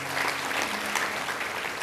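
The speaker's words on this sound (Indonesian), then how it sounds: "Kasih tepuk tangan untuk Tuhan Yesus." Church congregation clapping in praise to Jesus, a brief, fairly soft patter of many hands with a faint hum beneath.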